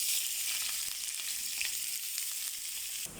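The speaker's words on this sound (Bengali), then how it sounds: "মাছ ফ্রাই হয়ে গেল, দিয়ে দিলাম পেঁয়াজ" Onions sizzle in ghee in a pan that already holds fried fish, a loud, continuous crackling hiss with faint stirring scrapes, close and unbroken.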